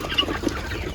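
Farm chickens raised for meat cluck in a brief, busy burst, soft and close with steady coop background noise and no talking.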